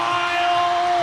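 Arena crowd at a Japan versus Türkiye women's volleyball Nations League match in Antalya erupting in loud, dense cheering and yelling, with a sustained high shout or horn cutting through the roar.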